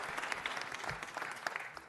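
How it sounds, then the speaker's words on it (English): Audience at a city council meeting claps steadily for a local club, a moderately distant patter of many hands with a few sharper claps standing out. "Let's give them a round of applause."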